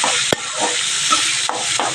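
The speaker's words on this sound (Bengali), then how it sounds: "এই যে উচ্ছে ভাজা হচ্ছে রসুন কুচি দিয়ে আর লঙ্কা কুচি দিয়ে" Bitter gourd fries with chopped garlic and green chilli in a pan, a continuous close hiss and sizzle broken by a few sharp spatula clicks.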